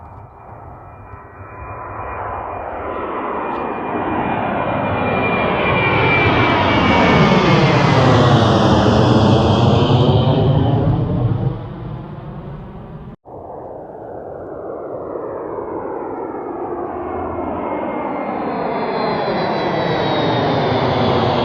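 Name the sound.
airplane taking off down the runway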